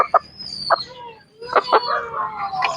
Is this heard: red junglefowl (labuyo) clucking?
yes